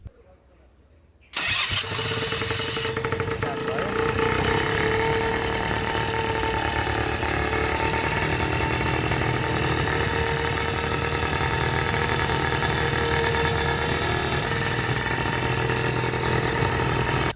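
A machine built at Nepal's National Innovation Centre starts up and runs, its engine catching abruptly after a quiet moment and settling into a loud, steady, buzzing drone close by for the rest of the stretch.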